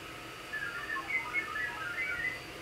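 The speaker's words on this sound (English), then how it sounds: "you should be able to hear those tones running in the background" VARA HF modem data tones come through an ICOM 705 radio as faint, chirpy warbling bursts over a steady hiss. The tones run quietly in the background with no speech.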